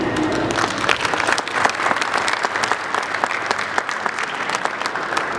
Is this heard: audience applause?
yes